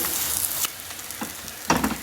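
Ghee-brushed aloo paratha sizzling steadily in a hot pan right after being flipped, a dense close crackle broken by a few brief louder spits and pops, with no voices.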